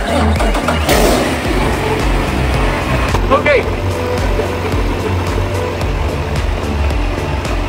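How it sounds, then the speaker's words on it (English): Isuzu 6WG1T diesel excavator engine running on a test stand: a loud, steady low rumbling idle with mechanical clatter filling the whole clip, while someone talks briefly over it. "Now we test the engine to show you this engine is good or not."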